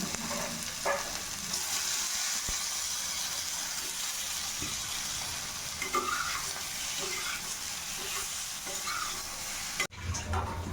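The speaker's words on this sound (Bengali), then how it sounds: "ওই তেলেই আমি আলুটা ভেজে নিচ্ছি" Potatoes fry in oil after jackfruit, a continuous near sizzle with occasional stirring clatter and light spatters, no talking, ending in a brief knock.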